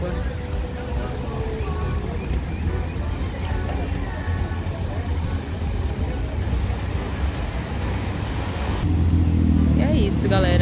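Tractor launching a boat into the water at a marina on a grey day in Guarujá, a steady loud engine drone with churning water and wind, rising and thickening toward the end.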